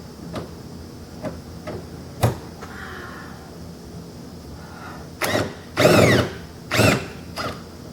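Hand tools work on the rear bolts of a cheap trail Jeep, with scattered sharp ticks and clicks followed by several short, loud mechanical bursts close by, and no talking.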